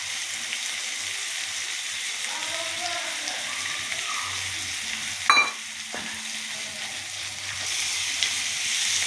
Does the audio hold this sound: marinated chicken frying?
yes